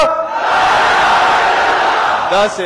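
Large rally crowd roaring a Pakistani slogan back in unison, a loud sustained mass of voices that swells and holds for over two seconds before a single voice cuts in at the end.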